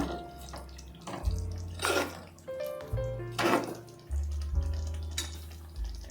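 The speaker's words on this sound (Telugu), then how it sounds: "మనం పులుసు పోసేస్తాం" Tamarind broth poured into a simmering raw banana and prawn curry, giving a few short splashing pours with liquid gurgling between them over a steady low stove hum.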